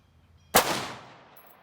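A single sharp rifle shot firing 62 grain Norma 5.56 steel core ammunition from a bagged rifle at a range, loud and close, with a ringing decay afterward.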